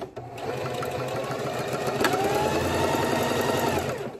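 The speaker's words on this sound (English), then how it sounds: "I'm going to forward stitch, back stitch," A sewing machine stitches ribbon trim onto a tutu, a close, continuous whirring hum with a fast regular needle rhythm that runs steadily throughout.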